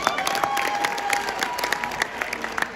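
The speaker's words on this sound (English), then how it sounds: "Let's give him another round of applause." Applause from an audience at a pitch day event in Gambia, a steady wash of many hands clapping at moderate distance, sustained throughout with no talking.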